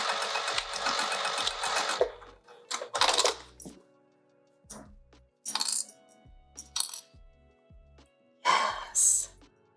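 A sewing machine stitches back and forth across a fabric pouch in short bursts, starting and stopping several times. Brief whirring runs sound close, with quiet gaps and small handling noises between them.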